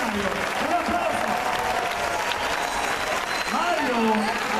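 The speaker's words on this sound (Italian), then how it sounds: "Un applauso." An audience at a Salento folk music event in Padova breaks into sustained applause, a dense steady clatter of many hands, with voices audible over it.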